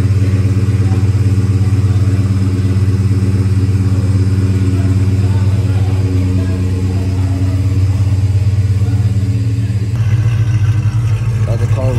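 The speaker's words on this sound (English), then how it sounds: "Got the car loaded up on the trailer." A 1979 Chevrolet Caprice Box car idles with a deep, steady low rumble while being loaded onto a trailer, the engine note shifting and roughening near the end.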